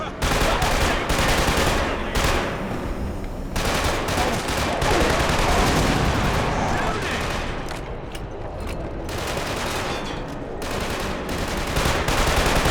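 Enemy gunfire in Killzone 2 rattles in dense, continuous automatic bursts with brief gaps, loud and close, with voices talking intermittently amid the shooting.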